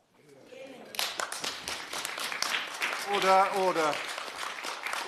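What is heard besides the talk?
applause in Westminster Hall debate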